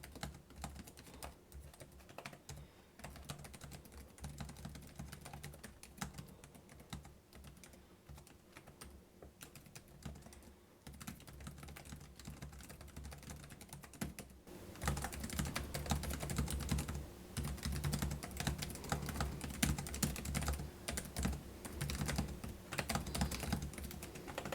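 Typing on the keyboard of a 2024 Lenovo ThinkPad E16 Gen 2 (AMD) laptop, rapid continuous clacking of keys. It grows noticeably louder and busier about two-thirds of the way through, with no talking.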